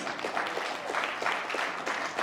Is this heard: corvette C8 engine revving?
no